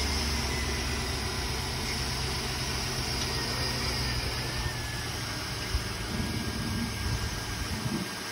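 A 2006 Chevrolet Tahoe SUV engine idles steadily with a low, even rumble and a faint high whine, no voices, running continuously throughout.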